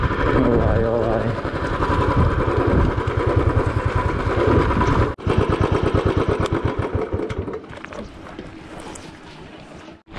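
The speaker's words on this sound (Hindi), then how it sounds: "मैं लगाता हूँ बाइक बिल्कुल आगे की तरफ" Motorcycle engine chugging and revving as the bike is ridden forward to park near a lakeside temple site, loud and close, then cutting to a lower idle before stopping, with someone speaking over it.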